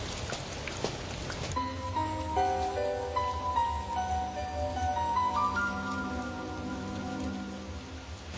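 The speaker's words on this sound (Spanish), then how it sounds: "Ya está lloviendo." Steady rain falling in an animated scene, a soft continuous patter with light drops, while a sustained musical tone plays over it.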